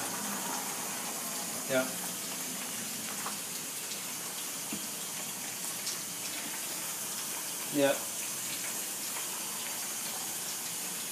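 Water leaks out below a GE hybrid water heater with a steady, low hiss and trickle, and a person briefly speaks a couple of times.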